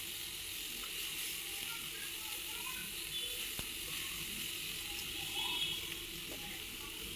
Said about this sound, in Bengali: এখন আমি মাছটা ভেজে নিব। উল্টে পাল্টে মাছটা খুব ভালো করে ভাজবো।